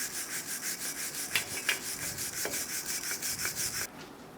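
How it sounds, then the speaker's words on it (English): A wire brush scrubs the wheel hub of a 2014-2018 Chevrolet Silverado 1500 during a front brake job, a steady close rhythmic rasping of quick back-and-forth strokes that stops abruptly near the end. "Using a wire brush, clean the hub."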